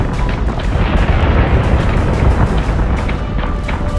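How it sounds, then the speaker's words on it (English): Space combat weapons fire in the Battlestar Galactica Deadlock game: a dense, continuous barrage of booming blasts and rumbling impacts, loud and steady throughout with no speech. "We're taking fire."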